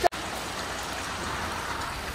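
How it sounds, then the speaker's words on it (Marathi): Heavy rain pours steadily in a broad, even wash of noise, close and continuous for the whole stretch, with one brief knock at the very start. "हे बघा आवरून जोरा पाऊस येले"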